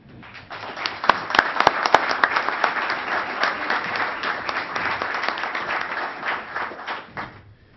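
A Columbus Rotary audience gives a full round of applause, dense clapping that builds quickly, holds steady and loud for several seconds with a few sharp individual claps near the start, then fades out.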